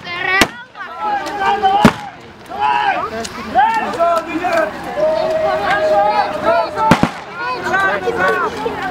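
Sharp booming blasts from a cannon fired at an open day event ring out a few times, sudden and loud amid chattering voices of excited children and adults nearby.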